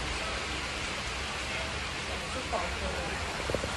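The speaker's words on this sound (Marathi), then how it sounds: "बहुत जास्त पाऊस येत आहे, काय करू आता" Heavy rain falls as a dense, steady hiss of drops outdoors, with a few louder patters near the end, while a person speaks over it.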